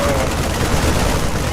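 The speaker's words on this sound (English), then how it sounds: "They're shooting civilians!" Dense, continuous battle noise from StarCraft II, with gunfire and rumbling booms blended into a steady roar that stays loud throughout and leaves no clear gaps between shots.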